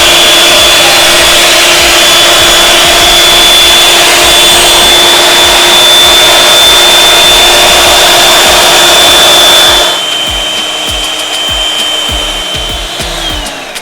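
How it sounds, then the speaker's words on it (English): Heavy cream for mango ice cream is whipped with a loud electric whisk, a constant close motor whine that drops slightly in pitch and loudness near the end. "I've been whisking it for 4 minutes"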